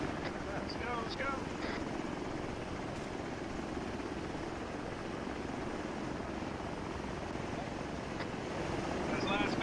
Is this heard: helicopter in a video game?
yes